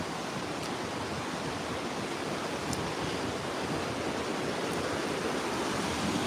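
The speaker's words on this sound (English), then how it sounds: "So here's the creek." Ketchikan Creek rushes steadily through the Creek Street area near a fish ladder, a dense, continuous broadband wash of flowing water with no pauses, close and fairly loud, no voices.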